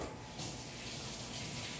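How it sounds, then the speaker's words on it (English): Tap water runs steadily at a kitchen sink while hands are washed during shortbread baking, a continuous close hiss with no talking. "Wash hands."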